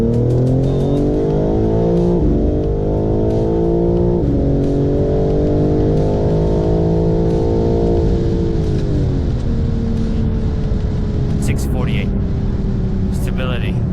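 A Stage 1 chip-tuned BMW M4 G82 pulls hard with wheelspin, its engine note climbing in stepped surges through several shifts, loud and close throughout, with a brief squeal-like burst near the end.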